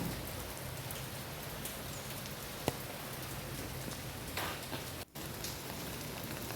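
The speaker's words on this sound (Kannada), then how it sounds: "ಇಲ್ಲಿ ನೋಡಿ ಭಯಂಕರ ಮಳೆ ಆಯಿತಾ." Heavy rain pouring steadily at the Sri Durga Parameshwari temple in Kodyadka, a dense continuous hiss of drops on surfaces close by, with a single sharp knock and a brief dropout midway.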